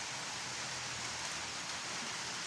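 Rain falls steadily outside a house, a soft, even hiss of drops on surfaces that continues without a break, fairly faint and with no talking over it.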